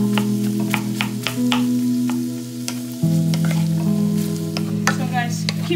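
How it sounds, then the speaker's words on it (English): Onion, ginger, garlic and green chilli fry over small to medium heat while being mixed, giving a bright sizzle with repeated stirring clicks and scrapes over a steady tonal hum. "Then I'm going to add everything, onion, ginger, garlic and green chilli. Then mix all together."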